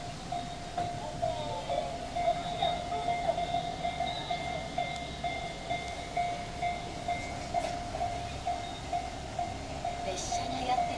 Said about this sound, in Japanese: 列車がやってきました。